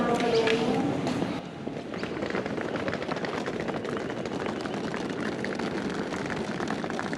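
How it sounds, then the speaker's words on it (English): Footsteps on an airport apron while walking out to a Qantas Boeing 737-800, a steady patter under a constant roar of aircraft engines and wind. "From the boarding gate to the aircraft involves a short 100-meter walk across the apron."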